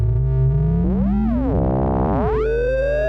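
A Sequential Prophet synth using filter FM through Polymod, with oscillator 2 turned on, drones with a dirty, buzzy tone while the filter sweeps up and down in swooping, warbling glides, loud and steady without talk.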